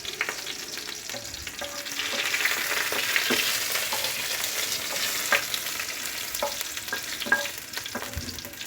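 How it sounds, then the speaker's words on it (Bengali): Cumin seeds tempering in hot oil in a pan for a new-potato dum, a close, continuous sizzle with scattered small crackles and occasional spatula scrapes, steady throughout. "তো একটু জিরা ফোড়ন দিয়েছি। এখন এটাকে আমি একটু ভেজে নেব।"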